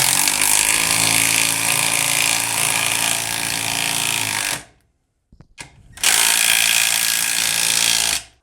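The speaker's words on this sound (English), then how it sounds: "Now we've got the 9/16 inch socket loaded up here on the 1/4 inch Impact" Milwaukee M12 quarter-inch impact driver with a 9/16 inch socket on a 3/8 inch adapter driving a thick, short lag bolt: two loud, close bursts of rapid hammering, about four and a half seconds, then a brief pause, then another two and a half.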